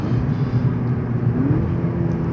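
Steady engine rumble from a 2009 VW Golf GTI Mk6 fitted with a BCS Powervalve exhaust, with a brief rising tone as it drops to second gear on paddle shifters, heard loud and continuous from inside the car.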